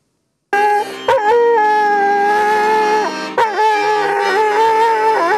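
A dog serving as a military unit's mascot howls loudly and tunefully, close up, in two long sustained wailing phrases broken by short gaps, as if singing along to holiday songs.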